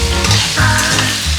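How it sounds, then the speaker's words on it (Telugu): Onion and pumpkin frying together in a pan for a Telugu gummadikaya curry, a steady loud sizzle with stirring scrapes throughout, no talk. "ఉల్లిపాయ దోరగా వేగాలి, కానీ దీంట్లో కలిపే వేసుకోవాలి."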